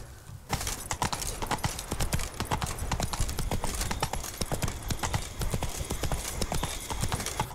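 Horse hooves clip-clop steadily and closely in The Witcher 3: a brisk, even trotting rhythm that continues throughout, with a quiet background beforehand.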